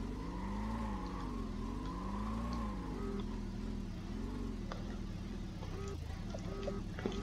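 A rock crawler in the game Brick Rigs drives over rough terrain, its engine a steady, wavering mid-pitched drone that rises and falls continuously, with faint clicks and knocks scattered throughout.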